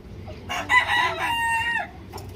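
A chicken close by lets out one loud crow lasting over a second, bracketed by a few short clucks, in a quiet rural yard.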